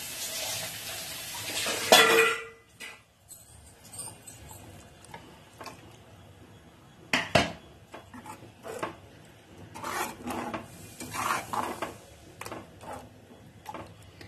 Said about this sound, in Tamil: உங்களுக்கு ரொம்ப திக்கா இருக்குது அதனால நான் கொஞ்சம் தண்ணி ஊத்திக்கிறேன்